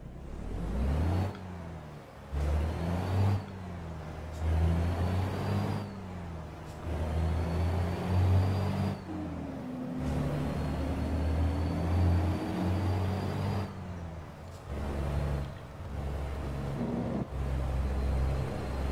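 A heavy truck engine in American Truck Simulator, towing a Peterbilt, drones steadily at low pitch, rising and falling as it revs, with brief gaps between stretches of running.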